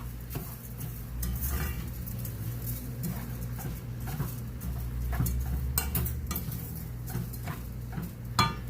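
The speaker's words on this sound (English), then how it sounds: "And then we're going to mix this up." Rice being stirred in a cooking pot, a steady run of close scraping and clinking utensil strokes against the metal in irregular rhythm over a low background hum.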